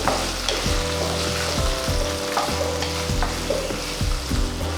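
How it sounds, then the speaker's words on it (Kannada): Spices, ginger and other ingredients dry-roasting in a pan over a low flame, with a continuous loud sizzle and regular rhythmic scraping strokes of stirring, no voices. "ಇದು ಲೋ ಫ್ಲೇಮ್ ಮೇಲೆ ನಾವು ಹುರ್ಕೋಬೇಕು ಇದೆಲ್ಲ ಹಾಕಿ."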